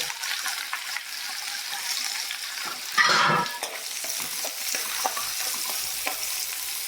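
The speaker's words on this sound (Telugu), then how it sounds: "నూనె పోసాను కరివేపాకు వేస్తాను మిరపకాయలు" Curry leaves and chillies hit hot oil for a Kuwaiti-style fish curry, giving a steady close sizzle with a sharp, louder crackling burst midway before settling back into an even fry.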